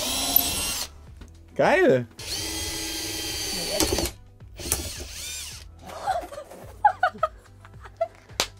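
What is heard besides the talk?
electric drill drilling into cheap wood, drill bit breaking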